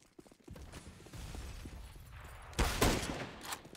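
Muted Counter-Strike gunfire on the Cache map during a professional ESL Pro League match: a dull, low rumble of shots and movement swells into a louder cluster of rapid shots near the end.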